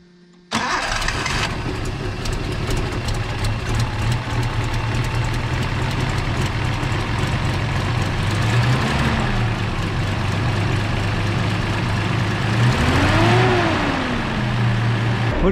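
A Datsun 280ZX engine with fresh injectors, connections and compression cranks and catches after a brief silence, then settles into a steady close idle with two rising revs, the second longer and stronger.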